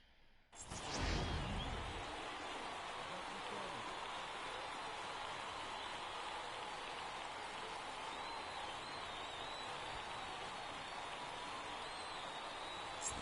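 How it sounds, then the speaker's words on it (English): Rain falls steadily in the MLB The Show baseball video game, a constant soft hiss that begins after a brief thump and carries on evenly throughout. "There is rain in the area,"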